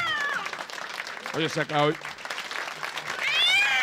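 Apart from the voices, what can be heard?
cat meowing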